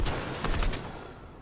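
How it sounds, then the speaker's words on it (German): Bursts of gunfire from the Fortnite video game, a rapid volley of shots packed into a brief moment at moderate level, with no voices. "ich schieße jetzt hier schon wieder"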